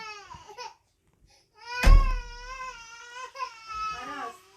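A baby wails in a Squid Game video game, with several drawn-out, high, wavering cries separated by short pauses, loud and close, with a voice briefly heard near the start.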